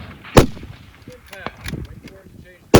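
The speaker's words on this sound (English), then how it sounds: "So I get my mag in, get behind the gun. Everything is good to go. Close my bolt. Clear to engage. And I just start blasting." Loud rifle shots on a shooting range during a hunting competition: one sharp blast near the start and another at the end, with sparse clatter and faint activity in between.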